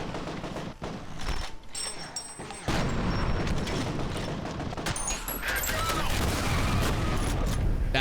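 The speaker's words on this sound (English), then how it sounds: "I throw a grenade, I hear an explosion" Grenade blast and gunfire in the shooter game F.E.A.R., a sudden loud burst followed by sustained rumbling explosion noise and crackling debris, dense and close throughout.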